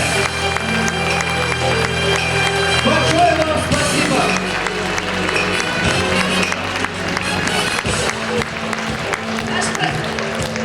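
A concert audience applauds in a hall during a festive performance, with dense steady clapping throughout and someone speaking over it on a microphone.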